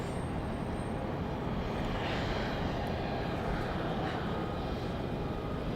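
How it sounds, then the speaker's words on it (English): Propeller-driven plane flying near Dallas Love Field airport, a steady broadband engine drone that holds at an even, fairly loud level for the whole stretch, with no voices over it. "Looks like we might have a propeller plane,"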